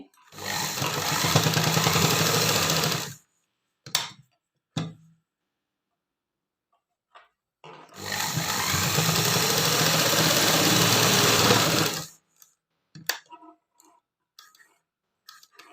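An electric sewing machine stitches a pocket onto trousers or palazzo pants in two long, steady whirring runs, with short bursts and clicks between them, close and fairly loud.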